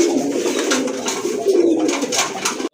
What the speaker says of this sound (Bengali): আর সাথে আছে বিউটি হুমার একটা নর কবুতর, এটা হচ্ছে আপনার গ্রেভার বিউটি কবুতর।